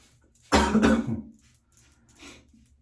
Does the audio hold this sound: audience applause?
no